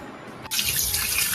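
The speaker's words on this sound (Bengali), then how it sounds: "আর ঘুম থেকে উঠে এদিকে জল দিচ্ছি পিলারে।" Water splashes onto a pillar in a home setting, a sudden loud rushing pour that starts halfway through and continues steadily up close.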